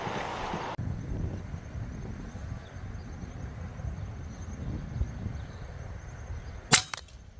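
A .357 air rifle fires a single sharp shot at a groundhog outdoors, a brief crack near the end standing clearly above steady wind and field noise.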